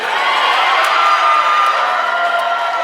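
Crowd cheering and whooping at a Paralympic wheelchair curling match in Milano Cortina, a steady, dense roar of many voices held at full level throughout, with no pauses.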